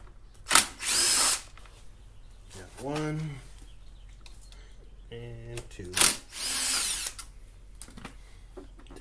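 A power tool spins an 8 mm socket on an extension while removing screws from a Honda ADV 150 scooter. Two short, loud whirring bursts stand apart from each other, with quieter ringing, pulsing tones in between.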